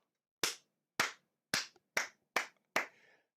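Six sharp, isolated hand claps ring out alone at roughly even half-second to one-second intervals, each a crisp close smack with a short decay, the last trailing slightly longer.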